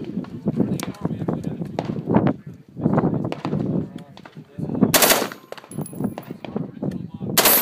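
An AR-15 rifle fitted with a Slide Fire bump stock fires in rapid automatic-like bursts at a Las Vegas trade show range. Shots crack in dense rattling strings and sharp individual reports under voices talking nearby.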